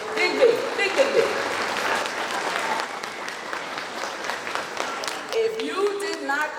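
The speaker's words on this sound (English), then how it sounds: "give her a big round of applause" A crowd at a Jamaica 60 Diamond Jubilee gala breaks into sustained, full applause that swells and holds throughout, with a voice speaking over it.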